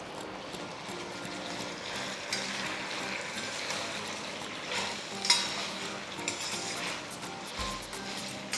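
Scallions are stir-fried in a cast-iron wok with a steady, loud sizzle and frying hiss, with spatula scrapes and stirring clatter throughout and no voices.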